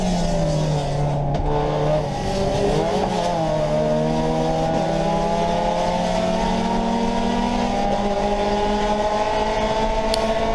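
Race cars howl at Road Atlanta in wet conditions, heard from inside a car. A loud, continuous engine note climbs and shifts in pitch as faster traffic comes past, with no talking.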